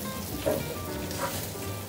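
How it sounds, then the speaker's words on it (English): Soft, faint sizzling and light crackling from spices, including coriander seeds, toasting in a hot pan, with a couple of small pops. "Lightly toast all the spices."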